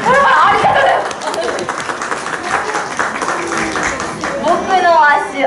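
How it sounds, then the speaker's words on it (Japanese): Children and audience clap together at a live Kumamon mascot stage show, a steady wash of applause with giggles and chatter, while presenters' voices rise over it near the start and end. "友達拍手でお願いします拍手"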